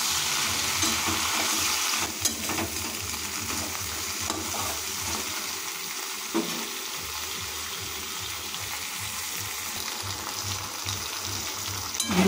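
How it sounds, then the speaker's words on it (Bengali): Okra (bhindi) frying in a pan of oil gives a steady, loud, close sizzle that never lets up, with a few soft knocks from stirring. "এখন আমরা এই ভেন্ডিগুলো কিছুক্ষণ ভেজে নেবো।"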